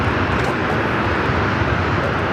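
An Embraer Lineage 1000 private jet at LAX gives off a steady, loud broadband engine roar that holds unbroken throughout.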